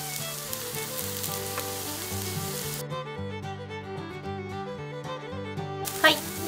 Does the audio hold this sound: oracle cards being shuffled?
no